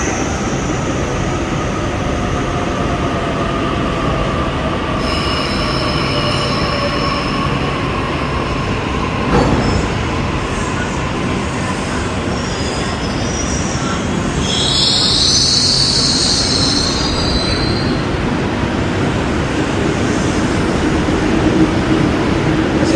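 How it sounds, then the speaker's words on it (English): A train in Sydney rumbles steadily as it pulls away from a station, with high, piercing wheel squeals rising midway and fading; no talking. "Let's just wait for this train to leave."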